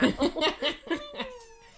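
A cat meows repeatedly in short, close bursts, the last call stretching into a longer, falling tone.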